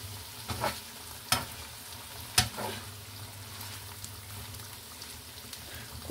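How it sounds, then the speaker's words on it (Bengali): Methi greens with potato frying in a pan, a low, steady sizzle punctuated by a few sharp clicks and scrapes as the greens are stirred, fairly quiet and close, with no voices. "এদিকে হচ্ছে আমি এই যে শাক ভাজিটা বসিয়ে দিয়েছিলাম, এটাও হয়ে গিয়েছে"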